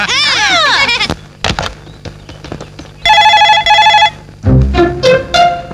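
A telephone rings in two repeated electronic bursts, loud and close, following some warbling sweeps and clicks.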